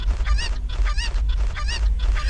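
Chickens in the video game Resident Evil 4 Remake, loud close squawks and honking clucks in repeated bursts over a low rumbling background, with no talking.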